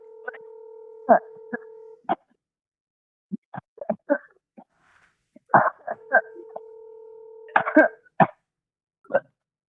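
Phone keypad dialing tones, two sustained dual-tone beeps each lasting about two seconds, alternating with short coughs, clicks and brief vocal sounds, fairly close and clear.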